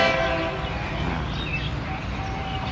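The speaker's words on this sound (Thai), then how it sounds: "รถด่วนพิเศษขบวนเจ็ดนะครับ กรุงเทพเชียงใหม่" Special express train no. 7 from Bangkok to Chiang Mai rumbles along steadily, with a distant horn tone sounding faintly over the rolling noise.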